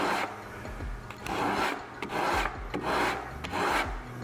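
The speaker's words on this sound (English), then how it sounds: "So you just kind of sand and try to blend that right in so the next pieces can ride right over them." Cork being hand-sanded on the rails of a plywood surfboard, rhythmic rasping strokes close up, about six back-and-forth passes at an even pace.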